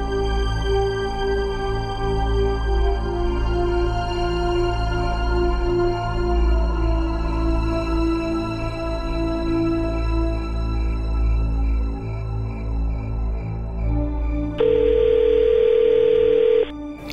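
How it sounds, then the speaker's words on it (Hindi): Telephone ringback tone on a call waiting to be answered, steady and fairly loud, ending in a brief higher tone near the close, with no voices. "तुझे कब से मैं फोन मिला रहा हूँ।"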